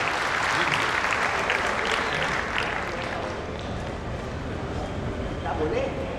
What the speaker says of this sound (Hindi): ताली वाली बजा दो एक बार,